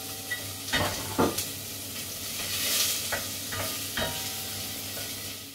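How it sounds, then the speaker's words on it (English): Onions sauté in hot oil in a pan for a biryani, a steady sizzle with several sharp stirring scrapes, close and clear, with no talk. "the first thing that we're going to add is the onions, and we're going to saute them for around 3 or 4 minutes"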